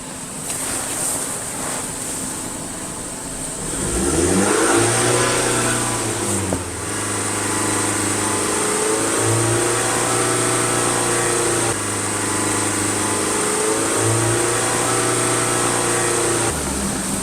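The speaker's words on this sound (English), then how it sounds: "raise the idle to a high idle right away" A 2021 Ford Transit Connect engine is raised to a high idle during fuel-system cleaning, holding a loud, steady drone with a few shifts and small surges in pitch, no talking.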